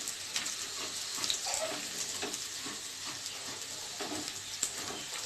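Onions fry with turmeric in a pan for a simple boiled-potato and egg curry, giving a soft, continuous sizzle. Occasional light stirring clicks sit over a quiet, close hiss.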